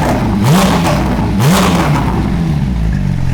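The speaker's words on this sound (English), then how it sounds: "All right, let's rev it." A Porsche 992 GT3 fitted with a loud aftermarket exhaust, revved twice in quick succession while parked, each sharp rise in engine pitch dropping back to a rough, throaty idle, close and loud.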